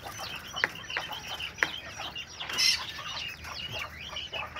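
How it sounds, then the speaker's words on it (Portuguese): Japanese quails, including white males and dark females, kept in a home pen, give short clucks and chirps at a steady pace, with a few sharp peeps and a brief flutter. "Essas são as minhas codorninhas."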